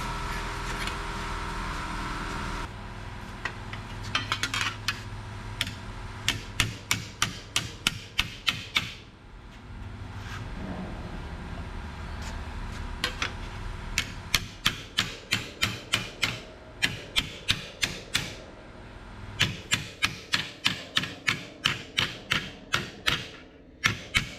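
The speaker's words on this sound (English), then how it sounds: "You can hammer the waves out with a hammer." Rapid bursts of metallic hammer blows on a car's sheet-metal cowl section being repaired, sharp ringing strikes in quick rhythmic runs separated by short pauses.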